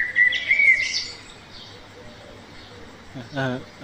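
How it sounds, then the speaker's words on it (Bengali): A crow in the Meena Game 2 video game gives short chirping bird calls at the start, then a brief vocal sound near the end over quiet background noise. "এই কাক, কাকটা আবার পাজি কাক।"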